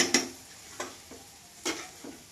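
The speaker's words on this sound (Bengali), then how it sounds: "বাস জল দিয়ে দিয়ে ভাজতে হয় মশলা" Masala spices for mutton curry fry in a pan with splashes of water, and several separate scraping stirs cut through a soft, steady sizzle.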